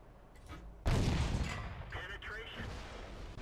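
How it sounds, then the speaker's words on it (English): A tank gun fires once in the World of Tanks video game, a sudden loud boom that decays into a rumbling tail over a few seconds, with faint game noise before it. "That's nice having a gun that fires a little faster"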